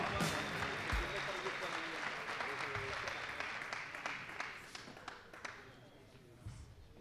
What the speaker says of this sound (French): Et un maximum d'applaudissements pour les joueurs.